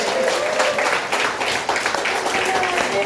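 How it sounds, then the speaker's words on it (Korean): An audience at a business seminar in Cheongju breaks into applause: a dense, steady patter of many hands clapping, with a voice talking over it. "다시 한번 뜨거운 박수 부탁드리겠습니다"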